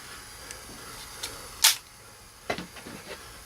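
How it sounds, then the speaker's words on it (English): Bolt of a KWA LM4 PTR gas blowback airsoft rifle being cycled by hand, giving a sharp metallic clack near the middle followed by a softer second clack, close and alone with no talk. "Pull back the charging handle. Dust cover opens up."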